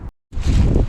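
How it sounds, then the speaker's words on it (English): Breezy wind buffets the microphone outdoors at a reservoir dam, a loud, rumbling roar that cuts out briefly and then surges back. "So it's got a bit breezy now, apologies for that"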